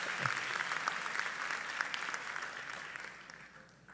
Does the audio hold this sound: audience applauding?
yes